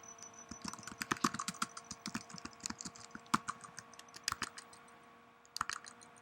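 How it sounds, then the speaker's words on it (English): Irregular bursts of keystrokes on a computer keyboard as a password is typed, close and fairly quiet, with short pauses between clusters and no talking. "Then you would type in the password"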